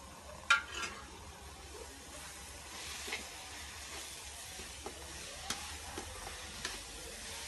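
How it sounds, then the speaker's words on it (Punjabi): Stuffed okra (bharwi bhindi) fries in a pan after a ladle of oil is added, giving a soft, steady sizzle broken by a few light clicks of stirring, with no talking. "ਹੁਣ ਆਪਾਂ ਇਹਦੇ ਵਿੱਚ ਇੱਕ ਕੜਛੀ ਔਰ ਤੇਲ ਪਾ ਦਾਂਗੇ।"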